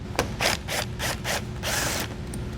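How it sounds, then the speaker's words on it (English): A ratchet loosens 7mm fasteners under the front fascia of a 2021 Chevrolet Spark, giving several quick close bursts of clicking, one after another, with no talk. "We now need to remove 8 7mm fasteners on the front of our fascia underneath."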